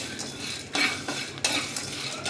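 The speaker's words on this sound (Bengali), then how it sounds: "কাজু বাদাম সবগুলো দিয়ে একটু ভালো করে আমি কড়াই নেড়ে নেব" Cashews and spices are stirred in a wok (kadai), the spatula scraping and clinking in repeated strokes over a soft background sizzle, with two louder scrapes standing out.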